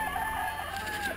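A rooster crows at a homestead chicken coop, one short, fairly faint call with a falling tail against quiet yard background.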